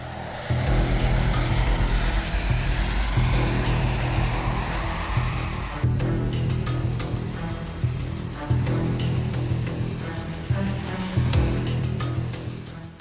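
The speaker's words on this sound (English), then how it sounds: "Aviaco Flight 231 began its takeoff roll" An Aviaco airliner (Flight 231) on its takeoff roll bound for Granada, a steady loud engine roar with deep low rumble and a high whine sustained throughout, no voices.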